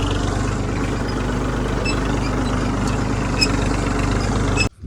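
A tractor engine idles steadily and close by, a continuous low rumble with a slight throb, then cuts off abruptly near the end.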